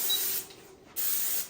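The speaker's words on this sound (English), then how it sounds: "I'm putting a lot of spray down in there." Cooking oil spray hisses into a baking dish for an egg white and oat bake in two bursts, a short pause between them, close and fairly loud with no talking.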